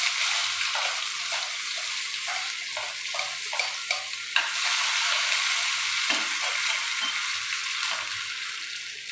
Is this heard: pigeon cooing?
no